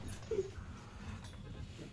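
Dog giving a single short, high whimper, faint and brief, over low background room noise.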